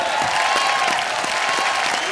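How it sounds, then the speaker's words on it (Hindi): The studio audience of the comedy show Comedy Nights Bachao gives Milap Zaveri a loud, dense wash of applause and crowd noise that holds steady for the whole stretch, with faint voices mixed in. "हमारे मिलाप जवेरी जी के लिए जोरदार तालियां।"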